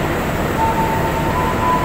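The Pangrango passenger train on the Bogor–Sukabumi line in Indonesia gives off a steady, broad rumbling roar with a faint high whine, constant for a couple of seconds.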